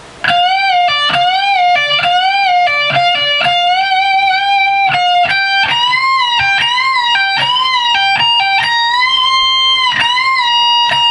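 Distorted electric guitar plays a solo at a slow tempo, with sustained bent and vibrato notes and quick picked phrases running steadily throughout at a loud, close level, with no talking.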